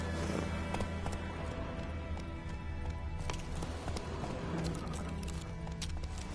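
Steady, close horse hooves clip-clopping at a trot in The Witcher 3: Wild Hunt video game, continuous and loud over a dense background of game ambience.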